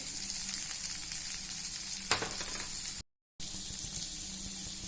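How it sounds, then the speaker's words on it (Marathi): Boiled, mashed potatoes fry in a hot pan with a continuous bright sizzle, one sharp scrape of a spoon partway through, and a brief gap of silence before the sizzling resumes. "नंतर आपले जे बटाटे उकळून मॅश केलेले आहेत ते टाकायचे"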